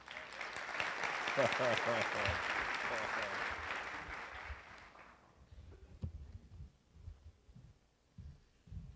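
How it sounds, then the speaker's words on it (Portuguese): An audience at a conference breaks into a burst of clapping and cheering for about five seconds before it dies away, leaving quieter room sounds and someone speaking. "Uma salva de palmas para a Bianca aí."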